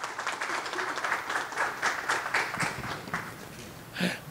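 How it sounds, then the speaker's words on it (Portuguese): Audience applause for Dr Felipe Camarão, vice-governor of Maranhão, at a panel session: steady dense clapping throughout, with a few voices faintly underneath. "Palmas para o doutor Felipe."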